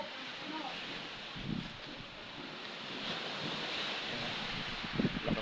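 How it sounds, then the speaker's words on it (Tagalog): Strong wind blows across an open, quiet resort area, a steady rushing roar with buffeting gusts against the microphone and a couple of brief louder thumps. "Lakas ng hangin."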